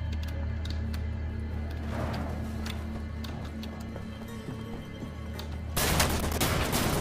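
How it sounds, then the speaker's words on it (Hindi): Automatic machine-gun fire in the shooter Wolfenstein: The New Order, a steady dense rattle of rapid shots running throughout, then a louder, sharper burst near the end. "मशीन गन है।"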